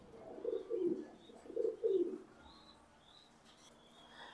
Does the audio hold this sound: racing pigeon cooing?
yes